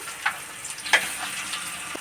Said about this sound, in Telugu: ఆయిల్ కాగిన తర్వాత పచ్చిరొయ్యలు అయితే వేపుకుందామండి